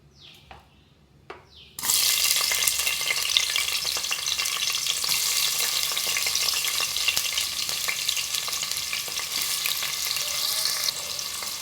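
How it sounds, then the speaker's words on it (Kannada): Onion dropped into hot tempering oil in a pressure cooker bursts into a loud, sustained sizzle after a brief quiet moment with a couple of small clicks, the crackling hiss continuing steadily up close. "ಈಗ ಒಗ್ಗರಣೆಗೆ ಈರುಳ್ಳಿ"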